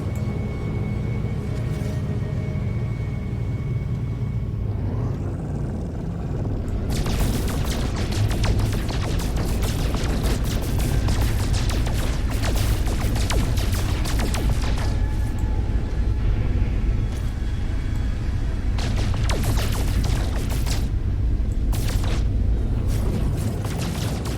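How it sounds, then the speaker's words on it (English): Asteroid being blasted apart while mining in No Man's Sky, a continuous loud rumbling roar with dense crashing, crackling impacts piling up over a steady low drone. "I am, like, destroying this asteroid"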